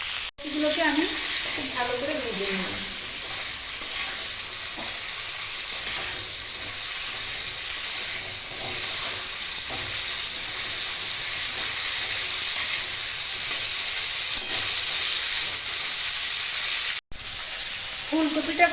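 Cauliflower and potato fry in a pan with a loud, steady, close sizzle that holds nearly unbroken, with a brief voice at the start and a short cut near the end.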